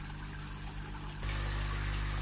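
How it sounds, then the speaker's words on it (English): Excess koi pond water trickles out of an overflow pipe into a fry tank inside a shed, a steady close splashing flow that swells noticeably louder partway through. "you'll be able to see where the water exits"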